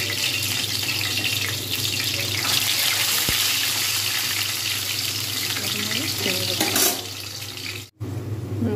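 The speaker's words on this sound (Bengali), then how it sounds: "তেল গরম হয়ে গেছে, এবার আমি একটা একটা করে স্প্রিং রোল এর মধ্যে ছেড়ে দেবো" Homemade spring rolls fry in hot oil with a steady, loud crackle that runs almost without a break, with one short dip near the end.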